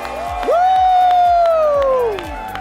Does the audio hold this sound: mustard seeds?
no